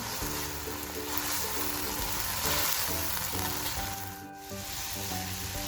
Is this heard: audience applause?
no